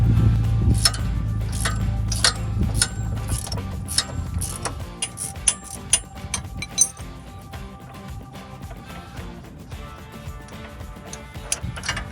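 An 18mm wrench and socket loosen a suspension nut on a Jeep Wrangler JL, giving close, rapid ratchet clicks and metallic clinks over a low background hum.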